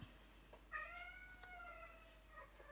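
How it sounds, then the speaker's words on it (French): Household cats meowing indoors, a faint drawn-out tonal meow in the middle with softer cat sounds around it, quiet and somewhat distant with no speech. "c'est pas grave, ce sont mes chats"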